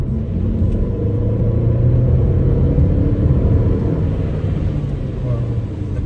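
A Mercedes CLA 250 with a 2-litre engine is pushed to full throttle, producing a steady, loud, low rumbling drone that holds for several seconds without a break.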